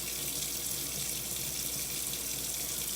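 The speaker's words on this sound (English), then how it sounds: "It's important to scrub all parts of your hands, including the backs of your hands, in between your fingers" Water runs steadily from a tap into a sink while hands are scrubbed beneath it, a continuous close hiss of flowing water with no pauses.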